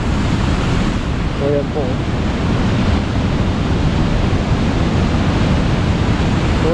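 Strong water pouring over Dadong Dam in San Juan Baño, Arayat, Pampanga, a loud, steady broadband roar filling the whole clip, with a brief spoken remark near the start.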